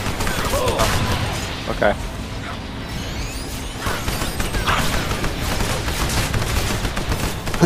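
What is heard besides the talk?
turrets firing from behind a wall in a video game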